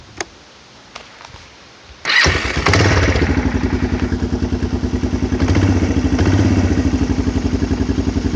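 A warm Kawasaki Lakota ATV engine is restarted after its battery is reinstalled. A few light clicks come first, then it catches abruptly and settles into a loud, steady, rhythmic idle that runs close by to the end.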